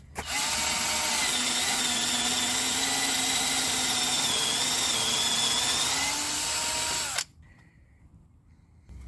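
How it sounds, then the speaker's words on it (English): A WORKPRO mini compact drill bores through wood with a loud, steady high-pitched whine for about seven seconds, then stops abruptly, leaving quiet room noise. "Here I tried the drill bits, and the drilling through the woods, it was so easy."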